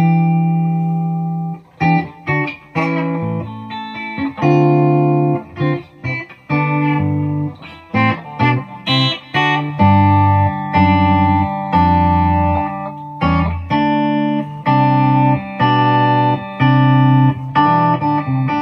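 A Michael Kelly Vibe electric guitar plays bright, twangy notes and chords through its bridge pickup, clean and sustained with short pauses between phrases.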